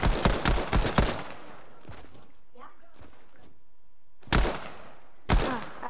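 Fortnite gunfire rings out in sharp bursts of several close, loud cracks, then a pause and two more separate shots, with voices talking in between.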